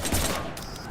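A burst of gunfire in the Mass Effect 3 video game, a rapid cluster of sharp shots up front that fades into a quieter tail, heard mid-distance beneath faint game voices.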